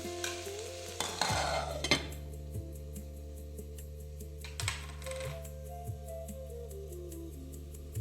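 Cabbage curry (sukhi patta gobhi sabji) is stirred in a pan, giving a soft, close sizzle with a burst of scraping and occasional light metallic taps of the spoon against the pan.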